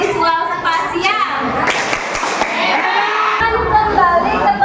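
A classroom group of children does the rhythmic 'tepuk hebat' clap together, a burst of clapping and excited voices, with kids chattering and shouting around it.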